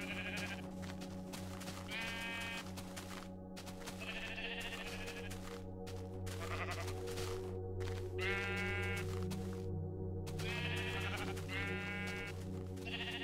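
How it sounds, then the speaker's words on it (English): Several sheep in Minecraft bleat repeatedly in short, wavering calls spaced a few seconds apart over a low, steady background hum, with no speech. "That was 1, 2, 3, 4, 5, 6 sheep that spawned."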